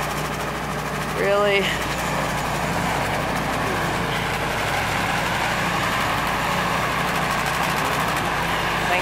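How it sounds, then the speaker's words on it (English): A snowblower engine runs at a steady drone outdoors during a Canadian winter snowstorm, with a short rise early on and a brief voice over the constant hum. "Thank God for the snowblower."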